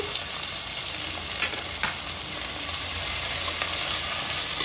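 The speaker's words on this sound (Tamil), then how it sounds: "நல்லா வதக்கிக்கோங்க வெங்காயம் நல்லா வதங்கட்டும்" Large onions sizzle steadily in a hot pan for crab masala, a continuous crackling fry with a few soft stirring scrapes, close and fairly loud, no voices.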